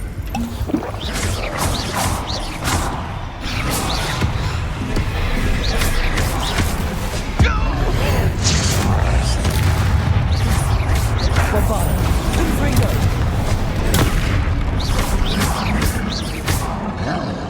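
Spell blasts in Hogwarts Legacy, including disarming, fiery and explosive spells, cracking and crashing in rapid succession through a loud, busy combat mix, with a voice shouting throughout.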